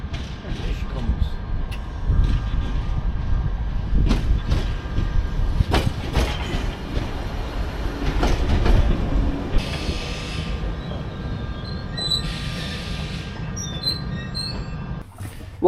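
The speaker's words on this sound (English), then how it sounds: "So this should be my train coming in, I hope." A London Underground Piccadilly Line train rumbles into a station steadily with clattering wheels, squeaks and brake hiss, continuous and fairly loud, with people talking faintly in the background.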